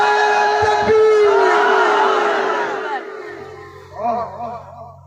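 A large crowd at a religious rally roars back a loud, sustained chanted response to the Naara-e-Takbeer slogan, the massed voices swelling and then fading, followed by a few quieter shouts.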